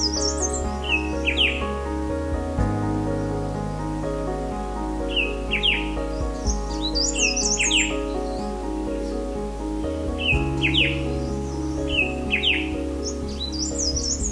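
Several birds chirp and call in a forest reserve, bright repeated tweets in bursts over a steady low hum, fairly close and clear with no talk.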